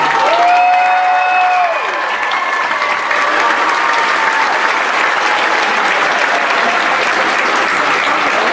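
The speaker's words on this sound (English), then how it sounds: "Our final huge thunderous round of applause for our 8th graders." A big audience at a school awards ceremony breaks into loud, sustained clapping and cheering for 8th graders; a sliding voice rings out briefly at the start before the applause takes over.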